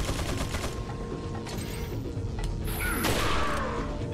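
Rifle gunshots in Resident Evil 4 ring out over a dense, loud game soundscape, with a few sharp blasts and crashing impacts punctuating the steady din.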